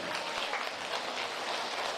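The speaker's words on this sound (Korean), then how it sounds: "우리 친구를 위해서 박수 한번" Steady applause from an audience at a senior welfare centre lecture, dense and continuous clapping for about two seconds, fairly distant with no voices on top.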